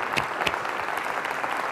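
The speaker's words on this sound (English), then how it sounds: "give them a round of applause" An audience applauds at a university teaching and learning celebration, steady moderate clapping throughout with no talk.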